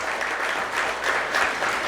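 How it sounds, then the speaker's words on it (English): Applause from an audience at a chamber of commerce anniversary luncheon, a steady dense clapping that holds for the whole moment and swells slightly near the end. "Let's give them a big round of applause."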